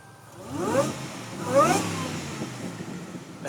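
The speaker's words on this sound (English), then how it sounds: "The exhaust sounds great. It's been modified as well, so it has an H pipe under there." A 1998 Ford Crown Victoria P71 police-package sedan with a modified H-pipe exhaust revs twice in quick succession, each throttle blip rising and falling, then settles back to a rumbling idle close by.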